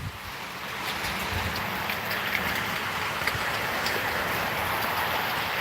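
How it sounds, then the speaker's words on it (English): Heavy rain in a windy storm, big drops pattering steadily and densely at close range, a continuous broadband wash with scattered sharper hits and no voices. "It's the big drops of rain."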